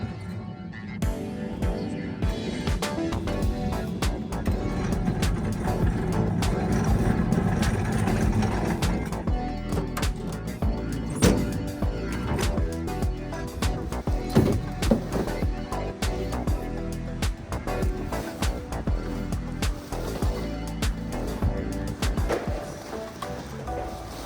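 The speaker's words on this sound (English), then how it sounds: "this is the container that I grab and I wheel down" A wheeled shipping container is pushed down a back dock, giving a continuous rolling rumble and rattle of wheels over a rough surface with occasional knocks, close and steady for about twenty-four seconds.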